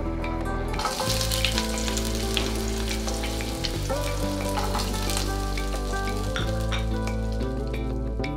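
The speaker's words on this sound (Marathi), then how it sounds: "कांदा लालसर होईपर्यंत आपल्याला भाजून घ्यायचा आहे।" Chopped onion, garlic cloves, ginger and green chillies dry-roasting in a pan for kaju masala, a continuous close sizzle and crackle with scraping stirs, steady level, no talking.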